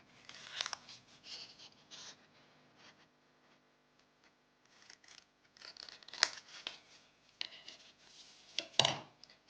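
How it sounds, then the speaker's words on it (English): Scissors snipping out a nail water decal design, scattered short cuts in small clusters with quiet pauses between them, close and fairly soft. "So just now I just cut out all the white parts."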